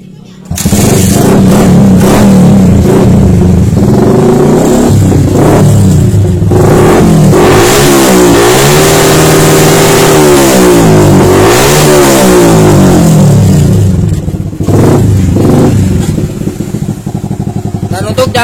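A Yamaha Jupiter motorcycle engine, running with a workaround ignition fix for a missing stator coil, starts and is revved hard several times, rising and falling loud and close, with a voice speaking intermittently over it.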